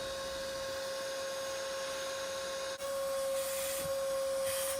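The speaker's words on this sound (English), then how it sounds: "If you decide to use a vacuum, just be very careful." Vacuum cleaner working around the fuel pump area of a 2010 Mercedes-Benz E350 (W212), a steady close whine with a constant tone that dips briefly then resumes with a slightly higher pitch and some rubbing noises.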